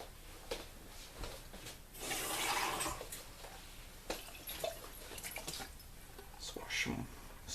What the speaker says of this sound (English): Swish some water around in there.